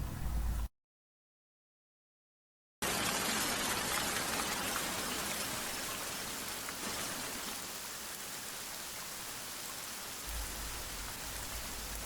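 Steady rain sound effect in a spoken audio story set at the Rashomon gate in Kyoto, a dense continuous hiss of falling rain that cuts out briefly near the start, then resumes without voices.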